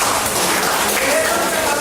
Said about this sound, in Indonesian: tepuk tangan Depon.